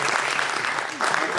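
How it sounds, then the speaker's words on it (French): Audience applause at an employer-branding conference, a dense steady wash of many hands clapping that carries through the whole moment with a brief dip near the end, loud and close. "Franck Laurent, animateur qualité chez TEM, on peut les applaudir"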